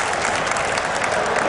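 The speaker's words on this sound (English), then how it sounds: "give him a big round of applause for that." A packed audience at a StarCraft tournament quarter-final applauds in a dense, loud, continuous wash of clapping throughout.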